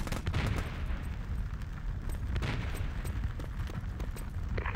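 Gunfire in ET: Legacy, faint scattered shots and muffled bursts in a busy battle background, fairly distant and steady throughout.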